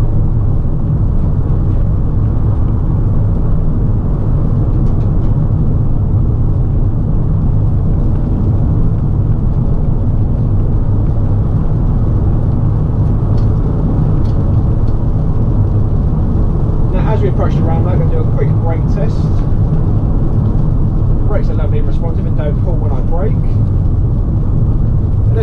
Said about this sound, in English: this van accelerates really nicely